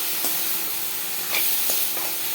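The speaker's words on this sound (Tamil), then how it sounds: "இப்போ நான் எல்லா கேரட்டையும் சேர்த்ததுக்கப்புறமா இந்த ரவையோடு சேர்த்து நல்லா நம்ம வந்து மிக்ஸ் பண்ணி விட்டுடுவோம்" Ground carrot and semolina are stirred in a hot pan, giving a steady hiss of sizzling broken by a few soft scrapes of a spoon, close and alone without speech.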